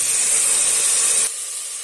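Tomatoes drop into a hot pan of fried spices and turmeric, setting off a loud, steady hiss and sizzle that cuts to a quieter simmering hiss near the end.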